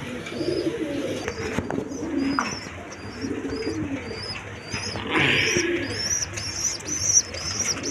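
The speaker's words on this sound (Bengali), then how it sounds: "গোল্লা কবুতর আছে, আবার রাজগোল্লা বলে।" Golla (rajgolla) pigeons coo steadily close by at a bird market, a soft rhythmic cooing repeated over a busy background with chirps from other birds and no speech.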